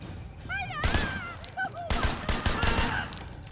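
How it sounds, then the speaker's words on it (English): Gunfire in the action video game Sleeping Dogs: a burst of several loud, sharp shots in quick succession near the middle, mixed with game noise and a brief high-pitched voice-like whine. "I shot her in the face!"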